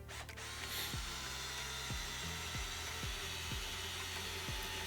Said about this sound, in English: with speed 1 you're getting lower speed, higher torque, and it takes a bit longer, but it still drives it into the timber quite quickly and easily